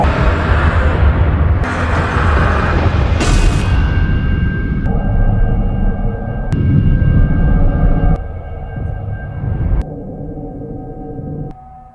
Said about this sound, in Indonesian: pesawat itu tiba di planet Gena dengan Dex yang berhasil mendarat darurat